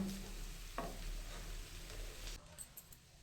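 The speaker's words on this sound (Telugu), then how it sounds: "కాసేపు అయితే వేగనిద్దాం ఎగ్గును." Three eggs with drumstick leaves fry in a pan, a soft, steady sizzle with light stirring scrapes that cuts off near the end, leaving a few faint clicks.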